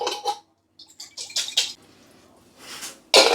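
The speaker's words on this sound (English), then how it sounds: "Just going to swish this out with a tiniest amount of water, just so I can get everything out of the jar." A small amount of water is swished around inside a pesto jar, giving short splashy sloshes in quick bursts with brief pauses, close and alone.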